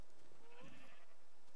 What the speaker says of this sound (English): Got a load of sheep in here.